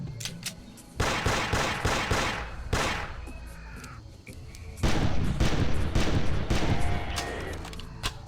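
Pistol gunfire in a fight with a dinosaur in the hunting video game Carnivores, with two loud bursts of rapid, overlapping shots and short bangs between them, the echoing reports ringing out over ambient game sound.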